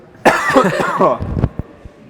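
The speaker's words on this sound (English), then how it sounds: "This cough's doing me in." A burst of harsh, rough coughing up close, followed by a few short throat-clearing sounds and small coughs trailing off.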